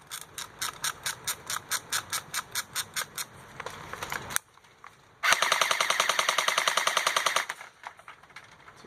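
A Lancer Tactical Gen 2 LT-19TL airsoft rifle fires. A string of quick, evenly spaced shots is followed by a pause, then a louder sustained full-auto burst of rapid mechanical clacking.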